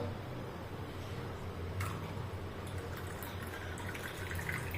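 Cold water pours into a glass holding spoonfuls of tamarind panha concentrate. The pour is a steady, soft, splashing trickle with a few brighter drips near the middle and end, and no voices.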